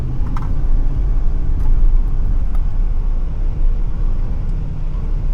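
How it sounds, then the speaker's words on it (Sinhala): A Toyota Premio climbs a hill road under acceleration, giving a steady low engine and road rumble with a few faint ticks and knocks and no voices. "වැඩි වාහනේ පිකප් කරලා බලමු කොහොමද කියලා."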